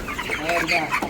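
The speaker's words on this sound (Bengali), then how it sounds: "10টা মুরগি দিয়ে দেন, ছোটো বড় মাঝারি সাইজ" Broiler chickens cluck in short, close bursts over about a second, with mixed sizes of birds being handed over in a poultry setting.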